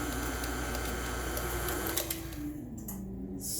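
An electric mixer blends baking batter in a bowl, a steady close motor whir with a rattling, ticking edge that shifts in pitch and eases off near the end, with no speech.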